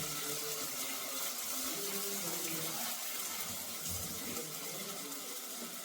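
Steady rushing water runs continuously without a break, like a tap filling a container, fairly loud and close with no speech.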